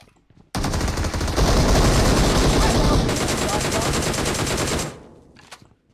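Sustained automatic gunfire in a shooter video game, loud and close, a dense rapid burst of shots lasting several seconds before cutting off, with faint background sound after.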